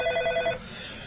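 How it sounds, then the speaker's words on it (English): A telephone bell rings in an office setting within a radio comedy, a short trilling burst of repeated rings that stops abruptly, heard alone at moderate level. "Mr. Peacock, there's a Mrs. Peacock on the phone for you"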